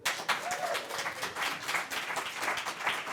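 An audience at an Icelandic lunchtime meeting on clean water applauds, a dense, steady patter of many hands clapping at moderate volume for about three seconds, no talking over it.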